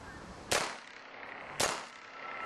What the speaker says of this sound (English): Using CCI Stinger, Ruger SR-22.